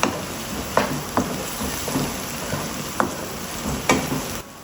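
Frozen ginger garlic paste sizzles steadily in hot oil, a dense close frying hiss broken by several sharp stirring knocks of a spoon against the pan.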